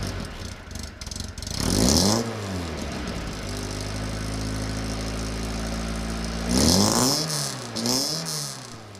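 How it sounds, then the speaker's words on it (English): Two sharp revs from a small car's exhaust, rising and falling with a raspy edge, sit either side of a steady idle; the engine is close and fairly loud, with no talking. "Now what you do get is a lovely rasp from this exhaust."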